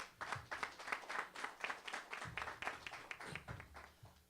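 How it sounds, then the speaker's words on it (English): A crowd applauds at a press conference on illegal clothing bins, a steady patter of many hands clapping at moderate distance for about four seconds with no voices. "Round of applause for Keith Warren."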